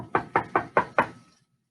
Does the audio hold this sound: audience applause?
no